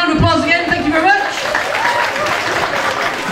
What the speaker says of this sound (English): Round of applause again, thank you very much